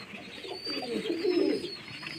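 Pigeons and a pigeon chick coo softly and steadily at close range, a low rolling murmur that swells in the middle.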